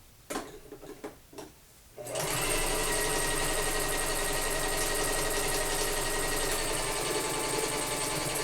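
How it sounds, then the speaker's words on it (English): A sewing machine stitches an elastic waistband, starting after a few soft handling taps and then running loud and continuous with a fast mechanical rattle. "And then we're going to sew this together."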